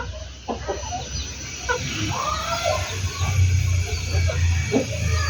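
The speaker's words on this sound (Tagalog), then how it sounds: "Yung tatlong sisiw na natin nandito." Hens cluck and chirp near three newly hatched chicks, with short bird calls repeating over steady farmyard background noise.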